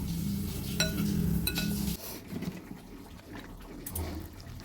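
Capsicum pakora batter worked by hand with water, giving soft wet squelching and sloshing with a couple of light clinks against the bowl, fairly close and quiet, with no talking.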